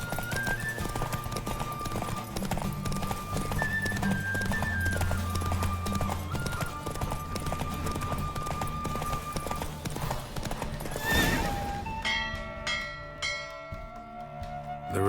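A horse gallops flat out in a race in The Witcher 3, its hooves pounding in a fast, steady clip-clop under a music score, before the run eases off and the music settles near the end.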